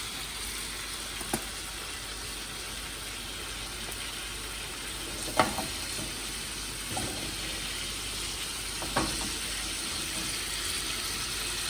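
Cajun-seasoned ribeye steaks sizzle in a hot pan with a steady, soft frying hiss, broken by a few brief pops and clicks, heard close and without talk.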